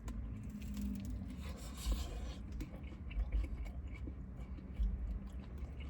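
Close-up chewing of a bite of crunchy, still-hot pizza from La Chula pizzeria, a steady run of wet crunching and mashing with a few sharper bites standing out, close to the mic with no talking.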